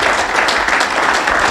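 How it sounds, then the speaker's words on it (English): Audience applause at a real estate investor meetup, a dense steady wash of clapping that stays loud and even from start to finish with no voices over it. "give a round of applause for these guys"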